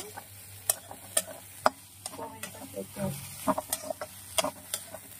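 Vegetables frying in a little oil, with a soft crackle under repeated sharp clinks and scrapes of a utensil stirring in the pan.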